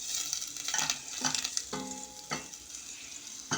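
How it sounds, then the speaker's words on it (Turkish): Besel margarine melting in a pan on a lit stovetop, giving a steady soft sizzle with a few sharper crackling bursts and faint scraping, close and alone with no voices. "Şöyle bir Besel yağımda aldım. Eritiyorum."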